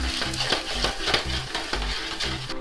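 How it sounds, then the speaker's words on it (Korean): Chopped vegetables sizzle in browned butter in a hot pan during home cooking, a steady frying hiss with repeated stirring scrapes and knocks, close and fairly loud throughout with no talking. "야채 다진 거 이렇게 칙 소리가 나야 돼요"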